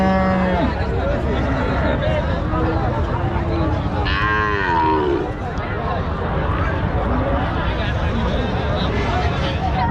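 Cattle low loudly at the Panchbibi livestock market, held on a Tuesday after Eid. Several long, drawn-out moos stand out, one swelling in the middle, over a constant hubbub of buyers and sellers talking close by.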